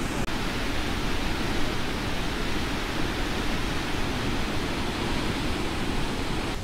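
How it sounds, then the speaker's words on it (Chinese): Cascade Falls waterfall roaring from up close, a dense, loud, unbroken rush of falling water that fills the whole stretch with no voices over it. "现在呢，我们已经来到瀑布旁边了，"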